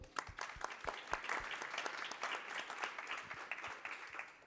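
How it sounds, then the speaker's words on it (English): A crowd at an evening talk about city skate spots applauding a guest from São Paulo, distinct claps at first that quickly thicken into steady, moderately distant group applause. "Maybe I'd like you guys to applaud him."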